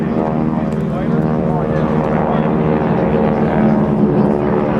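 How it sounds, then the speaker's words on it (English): GEICO Skytypers solo propeller aircraft flying at a 2010 joint services air show open house, a loud steady engine drone held throughout with a continuous tonal hum. "the aircraft will circle the enemy preparing to attack"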